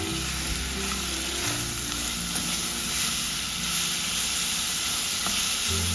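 Apples with brown sugar and cinnamon cooking in a pan give a loud, constant sizzle close by, with faint stirring and bubbling beneath and no talking.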